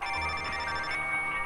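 A phone rings in the game Infamous Second Son, a steady electronic ringing tone with bright sustained harmonics, moderately loud and alone without talk.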